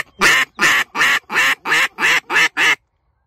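Eight loud, evenly spaced duck quacks in a steady rhythm, close by during a waterfowl hunt, then silence.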